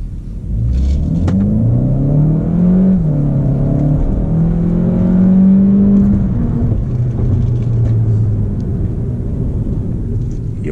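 Volkswagen Golf GTE hybrid driving, a loud close engine note with rising and falling tonal sweeps as it accelerates, over a constant road rumble and whir, with no talk for about eleven seconds.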